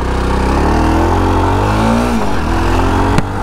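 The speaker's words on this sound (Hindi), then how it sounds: "तो चलिए पहले पैराग चलाते हैं और दिखाते हैं आपको चलने में ये कैसी है।" A Jawa Perak motorcycle being ridden, its engine loud and close throughout, revving up and down with a steady throaty drone and shifting pitch, with no talk over it.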